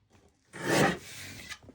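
A paper trimmer slices a thin strip off craft paper for a mini album, one short scraping cut lasting about a second, close and clear with no talking.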